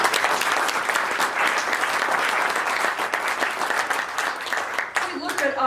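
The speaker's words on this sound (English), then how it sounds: "That deserves a big round of applause." A Kiwanis gathering in Australia breaks into a big, dense round of applause that holds steady for several seconds before thinning out, with a voice coming in at the end.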